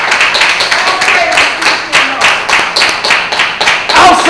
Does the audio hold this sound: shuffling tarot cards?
no